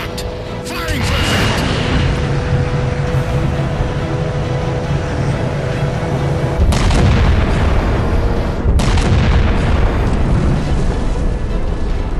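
Halo 4 weapon fire and explosions in a game battle, a continuous loud roar of booming blasts with sharp heavier bursts near the middle and end, dense and close throughout.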